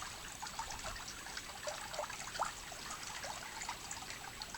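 Water trickles and splashes as stain remover is rinsed off a swimming pool liner; a faint, steady, gentle flow with small drips, no voices.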